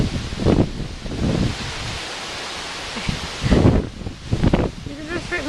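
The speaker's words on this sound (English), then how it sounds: "If it weren't so windy" Wind gusts outdoors in a yard with a playing puppy and chickens, buffeting the microphone in loud, rumbling surges with rustling between them, while a person talks.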